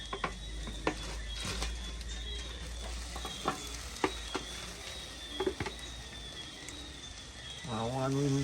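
Chicken frying on a grill gives a constant close hiss with scattered pops and clicks as pieces are moved around, and a voice comes in at the end.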